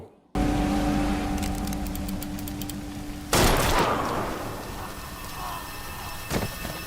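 Gunshots from the Telugu crime thriller film HIT: The First Case: one loud, sharp bang partway through with a rumbling decay, then a shorter, fainter shot near the end, over a steady film soundtrack drone.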